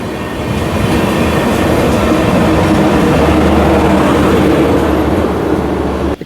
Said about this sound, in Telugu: ఇక్కడ స్టాప్ లేదు కానీ క్రాసింగ్ ఏదైనా ఉంటుంది, ఆగింది బండి.